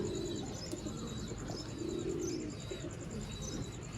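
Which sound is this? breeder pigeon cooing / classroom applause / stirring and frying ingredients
breeder pigeon cooing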